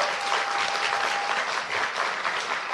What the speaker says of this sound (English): let's give Coach Brownell a round of applause